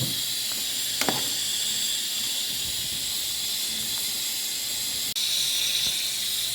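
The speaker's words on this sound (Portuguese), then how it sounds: "a carne coberta com água e vamos deixar cozinhando lentamente" Pork ribs simmer in water in a half-covered pot over low heat, giving a steady close hiss of bubbling liquid and steam with a few faint clicks, no voices.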